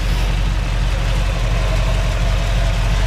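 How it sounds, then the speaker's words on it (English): A 1959 Chevrolet Brookwood engine running close by with a deep, steady low rumble, held at a gentle even speed with no sharp revving peaks. "go ahead and rev it up just a little bit."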